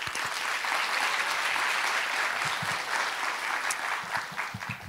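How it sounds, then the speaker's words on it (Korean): A seminar audience on European ESG disclosure rules applauds to welcome a guest speaker from Amsterdam, with loud, sustained clapping from a sizable crowd across the whole span and no voices. "큰 박수로 소개해드리겠습니다"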